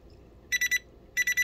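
A liquid level indicator alarm clipped to a cup sounds its nearly-full warning: two quick sets of three bright, high electronic beeps, separated by a short pause, over a quiet room.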